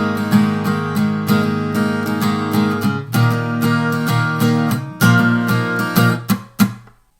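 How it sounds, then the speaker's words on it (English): Guitar strumming pattern from the pre-bridge of a song, quick down-up strokes in an uneven rhythm with ringing chords and brief pauses, close and alone. "there's a little strumming pattern that's totally different than anything else in the song."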